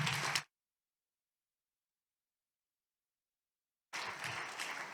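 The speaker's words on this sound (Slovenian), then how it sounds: "jim namenimo en velik bučen aplavz" Audience applause for guests at a public talk on youth mental health: a short burst of clapping is cut off into dead silence, then the clapping resumes, full and steady, for the last second.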